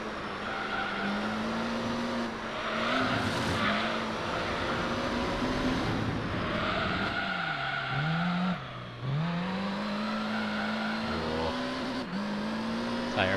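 Race car tyres squealing in Gran Turismo 3, with repeated long squeals over a steady, droning engine note that dips and climbs through the corners.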